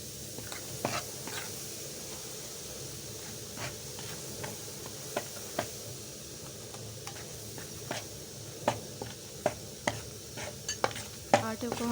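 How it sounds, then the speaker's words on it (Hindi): Wheat flour for aata halwa roasts in a pan while a spoon stirs and scrapes it, giving sharp repeated clinks over a low sizzling hiss, quiet overall, with the scraping growing louder toward the end. "आटे को हमने भून लेना है।"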